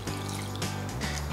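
Broth or water poured into a clay pot holding a cabbage and meat kapama, a steady close trickle with low resonant filling tones throughout.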